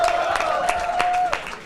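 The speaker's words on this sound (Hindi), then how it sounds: "एक बार जोरदार तालियां यार, कम ऑन।" A studio audience applauds at a comedy talent show, a dense steady wash of clapping and some cheering that holds loud for over a second before starting to fade.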